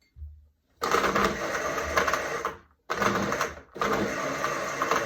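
Blender whirring loudly and steadily as it mixes banana milk, running in three long bursts with short gaps between them, close by and with no talk over it.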